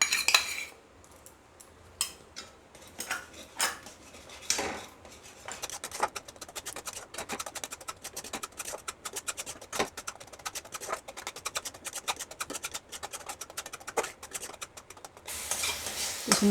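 A spoon beats a spoonful of yogurt in a small container while cooking, making rapid, continuous clinking and scraping strokes close by.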